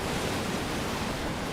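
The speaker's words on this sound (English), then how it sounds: "If you don't hear the ocean, please let me know, and I will set the ambient sound a little louder." Steady ocean surf ambience from the game Under a Rock, a continuous broadband wash of waves with no breaks or voices, even and moderately loud throughout.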